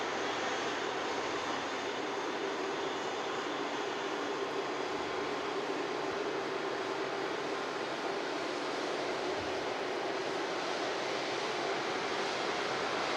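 Virgin Atlantic Airbus A330-300 at Manchester Airport, a distant steady rushing engine roar like wind or surf, constant and moderately faint across the whole stretch with no voices.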